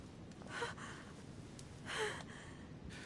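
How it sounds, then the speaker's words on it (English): Two slow, breathy gasps from a recovering woman in The Council video game, close and quiet, spaced about a second and a half apart over a faint background hum. "Her breathing is becoming stable"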